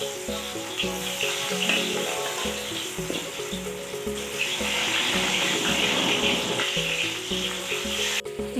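Pieces of fish and potato fry in hot oil in an Assamese home kitchen, giving a continuous close sizzle with a few brief clinks and stirs.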